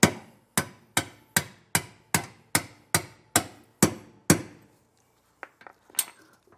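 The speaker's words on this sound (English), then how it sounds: "You can hit on the wrench here, or if you have a punch, something along those lines, you can just hit directly on that bolt." Metal-on-metal hammer strikes on a wrench to drive out a bolt while fitting a leaf spring suspension kit to a trailer, eleven sharp ringing blows in even rhythm, close and loud, followed by a few softer clinks.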